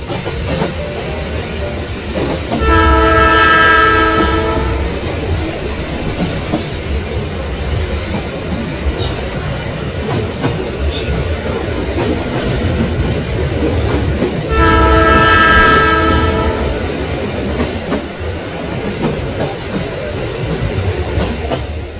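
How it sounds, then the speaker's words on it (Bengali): A train runs past loud and close with a steady rumbling roar, and its horn sounds twice, once near the start and again two-thirds of the way through. "সে ট্রেন ধরে সোজা বকুলপুরের উদ্দেশ্যে রওনা দিল"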